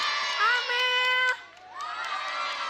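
A crowd of children shouts and cheers together, loud and near, their shrill voices rising in a sustained burst that drops off suddenly and then swells again more softly.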